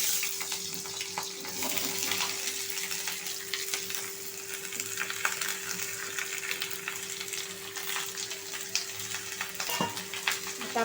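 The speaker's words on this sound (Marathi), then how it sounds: "आता आपण हे जे कढईमध्ये कांदा आलं लसूण टाकलेलं आहे ना, हे छान असं फ्राय करून घ्यायचं आहे" Onion, ginger and garlic fry in hot oil in a kadai as the base for a dhaba-style matar paneer. A steady, close sizzle crackles throughout over a faint constant hum, with no one talking.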